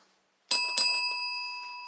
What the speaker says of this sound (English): I haven't rang my bell yet